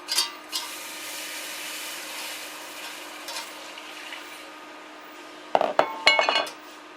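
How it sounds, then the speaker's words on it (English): Milk being stirred into a butter and flour roux in a pan for mac and cheese, a soft steady scraping and swishing at first, then sharper spoon clinks against the pan near the end, with no talk. "I'm just going to stir this in here until this gets well distributed throughout."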